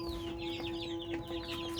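Grown three-month-old desi chickens clucking in a small home farm with a golden rooster, several quick overlapping clucks and squawks close by over a steady electrical hum, no talk.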